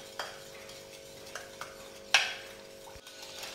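A spoon stirs milk, sugar and oil into eggless zebra cake batter in a bowl, soft scraping with a few light clinks and one sharper knock against the rim, quiet and close, no talking.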